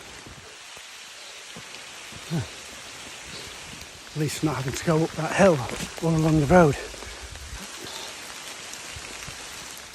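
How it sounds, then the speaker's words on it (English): Steady rain falls on a canal towpath in Staffordshire, a constant soft hiss throughout, with someone talking nearby over it partway through. "the rain's running off the side instead of dripping in front of my face"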